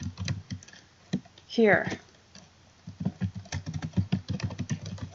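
Computer keyboard keys tapped in quick irregular runs while an email address is typed into mail server settings, soft clicking patter under and between a man's speech.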